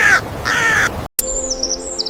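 A crow caws twice, loud and close, each call harsh and drawn out; after a brief silent cut, fainter high bird calls and chirps follow.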